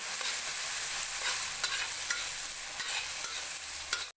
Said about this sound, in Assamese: এতিয়া এইখিনি মই কেঁচা গন্ধটো যোৱালৈ ভাজি থাকিম